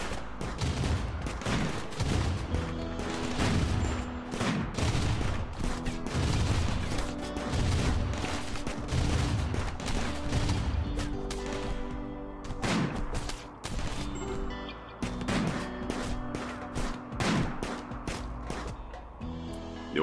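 Rapid bursts of gunfire from a RimWorld colony battle in the sea ice, with a steady, dense run of shots and impacts throughout, loud and close, layered over game sounds and music.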